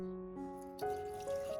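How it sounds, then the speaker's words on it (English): Hot water pours steadily into a glass jar close by, 500 millilitres for mixing with coffee, its ringing tone climbing in pitch as the jar fills. "Next, pour in 500 milliliters of hot water."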